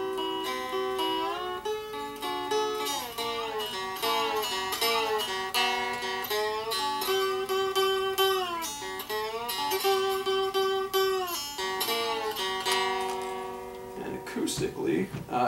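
A homemade cigar box guitar played acoustically, with quick plucked notes and slides in a bright, twangy, somewhat thin tone, running continuously and close up before trailing off at the end.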